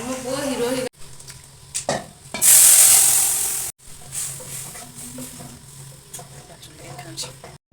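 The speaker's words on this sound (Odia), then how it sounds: "ଏବେ ଯାଉଛି ଶିମ୍ବ ଆଉ ଆଳୁକୁ ଯୋଉ ମ୍ୟାରିନେଟ କରି ରଖିଥିଲି ତାକୁ ଭାଜିବି" Marinated broad beans and potatoes sizzle and crackle in a pan, with stirring scrapes, a loud burst of hissing partway through and brief pauses, under faint background voice.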